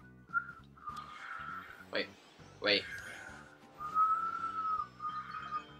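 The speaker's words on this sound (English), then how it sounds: "I'm trying to learn how to whistle." Someone still learning to whistle blows a series of wavering whistled notes, with uneven starts and stops, close to the microphone. A single word is spoken partway through, and other sound plays quietly underneath.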